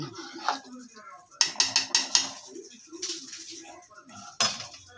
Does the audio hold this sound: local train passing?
no